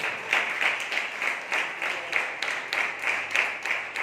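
Congregation clapping along during a Sunday church service, a steady rhythmic beat of many hands at about two to three claps per second, fairly close and continuous with no talk.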